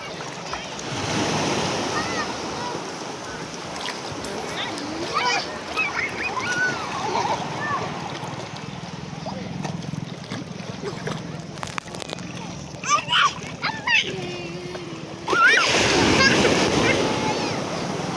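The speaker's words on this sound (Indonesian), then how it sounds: "Wow, besar ombaknya." Big sea waves break and wash on a beach during family sea bathing, a steady roaring surf with wind buffeting the microphone and a louder surge near the end, while voices are faintly mixed in.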